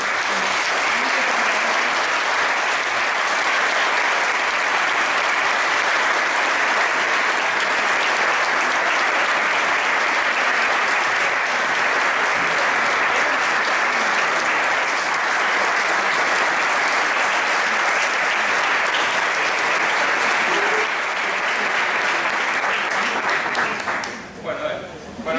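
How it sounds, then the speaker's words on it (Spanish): Loud, sustained applause from a workshop audience, thick and continuous for over twenty seconds before breaking off abruptly at the end, with some voices mixed in. "yo creo que se merece un gran aplauso nuevamente"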